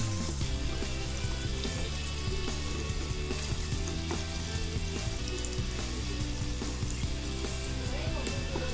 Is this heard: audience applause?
no